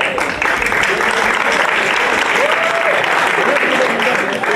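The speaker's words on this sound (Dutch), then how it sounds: "Dus een enorm applaus voor onze sponsoren." Applause for the sponsors at a charity ball in Boxmeer: a crowd claps continuously and fairly loudly, with faint voices mixed underneath.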